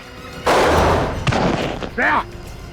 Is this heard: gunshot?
yes